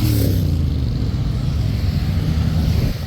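Several motorcycles ridden by bikers arrive near Horse Guards in London, a steady low engine rumble holding for about three seconds, fairly loud and close, without hard revving.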